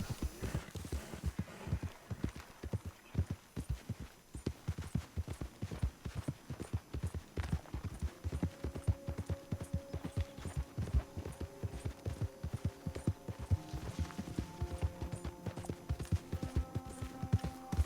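A horse gallops in Red Dead Redemption 2, with rapid rhythmic hoofbeats thudding steadily throughout, a low hum and faint game music tones joining in the second half.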